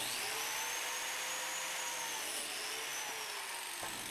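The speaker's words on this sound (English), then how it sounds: "Now we'll just position the biscuit joiner on the triangle and cut those slots as well." A biscuit joiner whines loudly and steadily, cutting slots into a wooden triangle for a shop-made tenon jig, with the motor's pitch sagging slightly under load.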